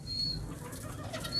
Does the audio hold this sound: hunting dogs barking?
no